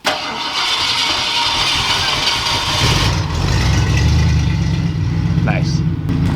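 A Ford Galaxie fires up and rumbles, then its engine note deepens and grows louder as it revs through a one-tire burnout, close and loud, with a brief rising whine near the end.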